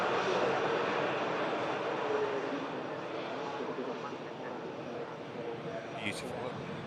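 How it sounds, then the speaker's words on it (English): A Turkish Airlines Airbus A321neo jet comes in to land at an airport, giving a broad, steady roar of jet engines that fades slowly over several seconds. "it's just awaiting the arrival of this Turkish A321neo about to come in"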